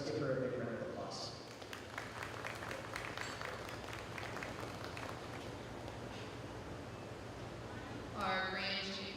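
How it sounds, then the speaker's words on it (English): Crowd applause for a young showman at a county fair swine show in Kiowa County, a steady wash of clapping across the ring with voices mixed in. "let's give her a big round of applause"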